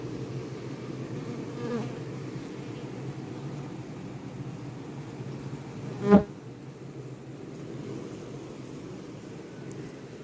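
A steady, low buzzing of many honeybees around a hive fills the air continuously, with one brief louder buzz as a bee passes close by.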